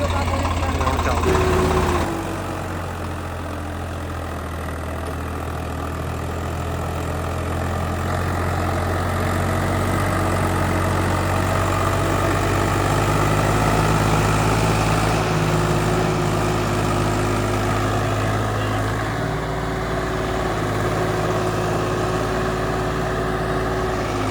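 A plain tractor fitted with a pump runs steadily, a continuous low engine drone with a slight knock, close and loud, holding for the whole stretch after a brief change near the start.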